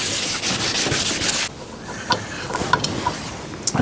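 Car paint being wet sanded by hand with 800 grit sandpaper, close rhythmic rubbing strokes for the first second and a half, then quieter with scattered light scrapes and taps.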